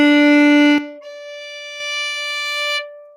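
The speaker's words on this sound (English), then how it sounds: "It should sound like this when you play the octave, the D, low D to the high D" A string instrument plays an octave, a loud low D bowed first and then the higher D, each held about a second, clean and alone.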